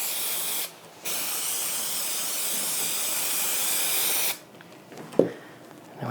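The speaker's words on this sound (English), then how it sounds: "I'm going to spray that." Aerosol spray can applying adhesive onto fabric for a gaming table build, heard as two long, steady, loud hissing bursts, the first lasting about three seconds after a short pause, then quieter handling noises with a small knock.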